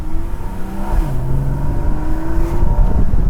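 Porsche 981 base Boxster engine pulling under acceleration, a steady close engine drone with rising and shifting tones and faint music playing inside the cabin.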